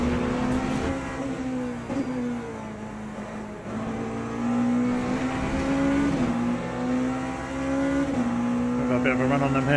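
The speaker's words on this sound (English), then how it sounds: "Porsche up in front, getting quite racy with the Ferrari." Porsche and Ferrari race cars in Le Mans Ultimate at Monza drone past with steady high engine whine and brief gear-shift dips, loud and close, while a commentator talks over them.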